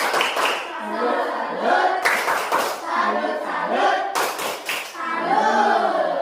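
A classroom of students performs a rhythmic salute clap, chanting together in bursts broken by sharp, patterned rounds of clapping, loud and close.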